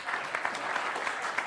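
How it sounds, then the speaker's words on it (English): Studio audience applause from a late-night talk show, steady dense clapping filling the whole stretch at moderate loudness, with no voices over it. "Thank you for clapping."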